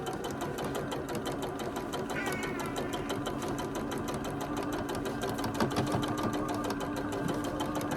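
A sewing machine stitching a quarter-inch seam on quilt pieces, a steady close-up mechanical whir with rapid even needle ticking that runs continuously without pause.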